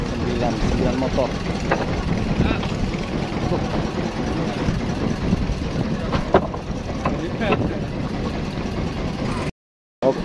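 A river ferry boat's engine runs steadily through a fast-current crossing, a continuous mid-low drone with water wash, heard alongside people talking nearby and a brief dropout near the end.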